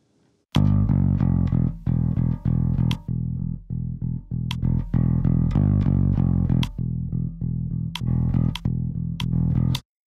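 A growling bass slide run through a distortion or saturation plugin, played as a series of loud, gritty, sustained notes with sharp attacks and brief gaps, sliding between pitches in a driving rhythm with no voices.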